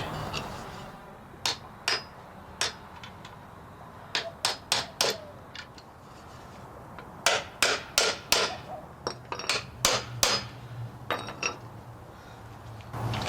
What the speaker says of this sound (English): And then go get a bigger socket and drive that in.